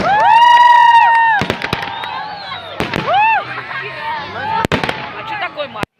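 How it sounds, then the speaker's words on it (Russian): Fireworks at an outdoor salute display crackle and bang in sharp bursts, with rising and falling whistles, while a crowd cheers and whoops loudly over the explosions. "до салюта осталось считанные секунды"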